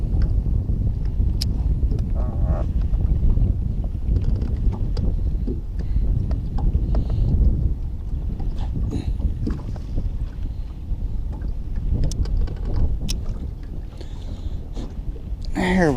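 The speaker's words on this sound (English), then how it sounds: "I'm literally having to leave the engine idling to be able to run my depth finder" A fishing boat's engine idles on a lake, a low, steady rumble running throughout with gusts of wind buffeting the microphone and faint knocks and rattles on the boat.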